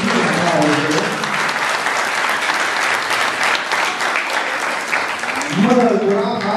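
Sustained audience applause at a cultural centre event, dense and steady, runs throughout with a voice speaking Romanian over it at the start and end.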